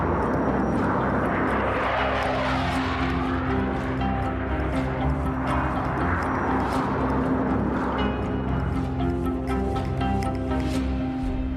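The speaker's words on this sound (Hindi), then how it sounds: "मुझे 2 फाइटर जेट चाहिए।" A loud, continuous roaring jet engine sweeps past, its whine rising and falling as fighter jets fly overhead, filling the whole stretch with steady noise.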